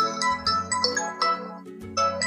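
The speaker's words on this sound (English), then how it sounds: "it will start ringing" A lost Android phone set to silent rings loudly after a remote play-sound command, giving a close, bright melodic ringtone of repeating tonal notes with short pauses between phrases.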